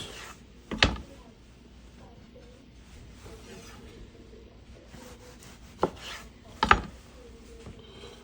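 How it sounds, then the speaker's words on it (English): A sharp knife cuts cored tomatoes in half on a board, with three crisp chopping knocks, one early and two close together near the end, spaced by quiet kitchen background. "I core them and then simply, with a sharp knife, cut them in half"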